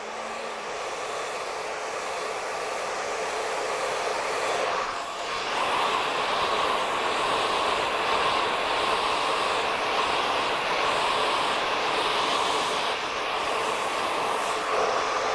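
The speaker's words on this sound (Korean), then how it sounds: "드라이기잡고안쪽으로넣어서마르면돼요" A steady, loud whooshing roar of blowing air runs continuously throughout, with a brief dip near the middle, close to the listener.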